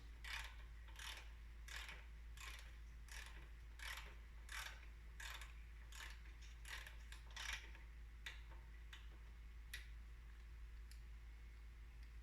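A torque wrench ratchets as a motorcycle front fork pinch bolt is tightened. About twenty faint, irregularly spaced clicks sound over a low steady hum.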